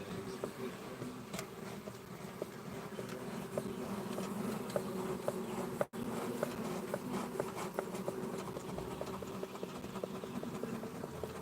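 Bees swarm around a hive, giving a steady, moderately faint buzzing drone with scattered light ticks and taps from nearby, continuous throughout with no talk.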